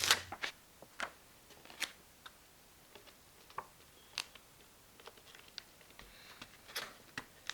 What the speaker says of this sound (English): Now peel off the paper backing and stick the grip to the deck.